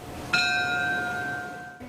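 A single memorial bell struck once at a crash anniversary ceremony, a clear ringing tone that sustains and slowly fades, heard alone.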